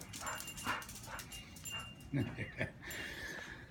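An old dog whimpers and lets out short yips and whines in bursts up close, with a person speaking over the sounds.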